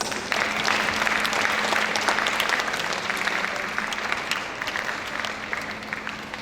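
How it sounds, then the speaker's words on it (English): An audience of pupils applauds in a room, a continuous moderate patter of many hands with a faint steady hum beneath it. "A big round of applause to everyone"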